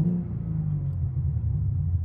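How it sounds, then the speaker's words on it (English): A 2023 BMW M3 50 Jahre Edition engine rumbles at idle with its exhaust valves open, a deep, throaty, steady tone, fairly loud and close. "and then your exhaust valve's open,"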